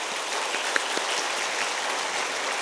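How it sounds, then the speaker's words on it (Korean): A church congregation applauds at a Wednesday service, a dense, even wash of clapping from many people sustained throughout, with a couple of sharper individual claps standing out. "우리 유정인 목사님에게 우리 감사의 박수하겠습니다"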